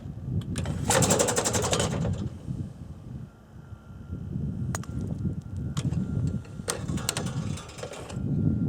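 A sporting clay trap machine set to throw almost vertically straight up cycles its mechanism, giving bursts of rattling, ratcheting clicks and whirring over a steady low mechanical hum, with sharp knocks in between.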